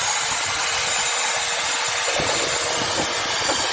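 A machine mixing clay with water to break up lumps churns with a loud, steady mechanical drone, close by and continuous, its tone shifting partway through.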